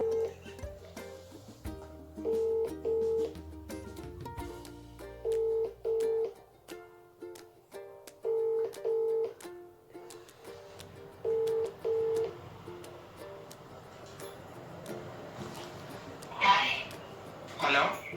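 A telephone number is dialed on a phone, with a series of clear keypad tones in short repeating pairs that stand out over ongoing conversation and background noise.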